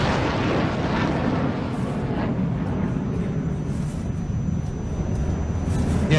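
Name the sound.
jet aircraft flying at the Dubai Air Show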